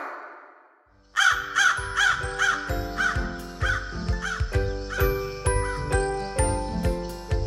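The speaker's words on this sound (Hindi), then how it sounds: "कौवा और सांप।" A crow caws repeatedly in a steady series of loud, close calls, with bright tinkling chimes and a musical backing underneath.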